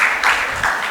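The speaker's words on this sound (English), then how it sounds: "a big round of applause to this esteemed panel" A short burst of audience applause at a trade conference panel discussion in Mumbai, a few seconds of steady clapping close and even.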